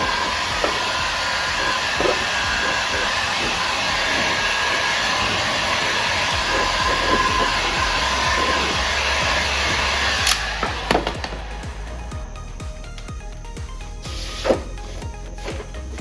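A hair dryer blows continuously while heating and drying a rear arm rest during restoration of a 1960s Cadillac, a loud steady hiss, with its tone shifting partway through and some handling clicks near the end.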